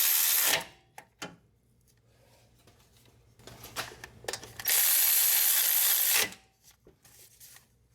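A ratchet tightens a bolt on a Honda 3.5L engine during timing belt work, sounding as short bursts of rapid clicking and one long steady ratcheting stretch, close and loud, with quiet pauses between.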